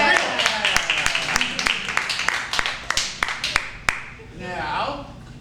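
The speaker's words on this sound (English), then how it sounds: "Round of applause for the percussion section in that scene." A small live improv audience gives scattered applause, loose individual claps rather than a dense ovation, fading out after about four seconds as voices rise.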